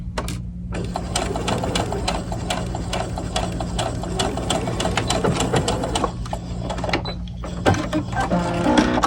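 A sewing machine stitching seams on a doll dress runs in fast, steady mechanical bursts close by, pausing briefly for back stitches before resuming its rapid clatter.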